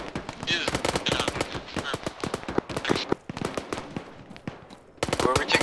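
Rapid bursts of video game gunfire crackle nearly nonstop in a multiplayer firefight, dense and loud throughout, with players talking over the shooting.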